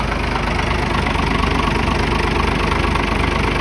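A vehicle engine idles steadily in a garage, a continuous low rumble with a faint rhythmic knock, loud and close, with no talk over it.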